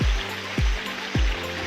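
A small stream or drain flows steadily through a village forest area, making continuous broadband rushing water noise, broken by three low dull thumps spaced about half a second apart.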